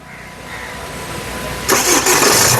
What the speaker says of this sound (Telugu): మూడు సార్లు ఈ కార్ని స్టార్ట్ చేసి చూపించాను